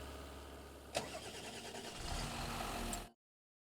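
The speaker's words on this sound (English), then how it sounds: "I'll jump on the John Deere tractor" John Deere tractor engine in a farming video game cranks and starts with a sharp catch, then runs at a steady mid-pitched idle for a couple of seconds before cutting off abruptly.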